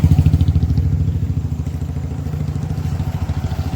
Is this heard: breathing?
no